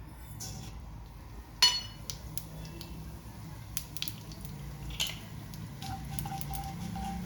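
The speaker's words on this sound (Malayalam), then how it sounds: "ഒരു ടീസ്പൂൺ കടുക് അര ടീസ്പൂൺ ജീരകം എടുത്തിട്ട് അത് ഇതിലിട്ട് കൊടുക്കാം" Mustard seeds and cumin spluttering in hot oil for a cabbage dish, scattered sharp pops and crackles over a low sizzle, one louder pop near the start, with no voices.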